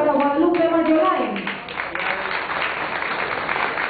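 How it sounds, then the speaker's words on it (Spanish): An audience at an award ceremony for a knowledge olympiad applauds a prize winner, with steady clapping that rises after a voice speaking over it at the start fades. "Un fuerte aplauso para Guadalupe Mayolain."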